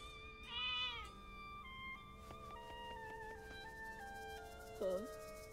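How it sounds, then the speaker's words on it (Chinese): A cat meows in the video game Zelda: Echoes of Wisdom, two clear, close meows at the start and end, with steady tonal game music chiming in between. "猫咪，"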